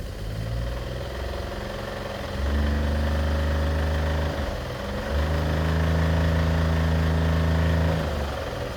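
A 2019 Ford EcoSport engine with low oil pressure runs steadily, with rough idle and two clear revs lifting its note for a few seconds each before dropping back; close and loud, no talking.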